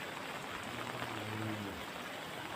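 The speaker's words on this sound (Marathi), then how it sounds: "आता पण पाऊस चालूच आहे" Steady, dense rainfall hisses continuously, with a faint voice murmuring low beneath the downpour.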